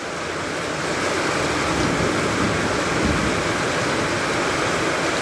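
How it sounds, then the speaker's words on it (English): Heavy monsoon rain in Pune pours in a dense, steady roar, with a low rumble of thunder rolling underneath. "rains with thunder showers and lightning,"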